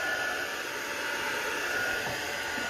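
A heat tool blows steadily while drying a stamped card made with a Daisy Grunge stamp set, a continuous broadband whooshing hiss that holds at an even level throughout, with no talking.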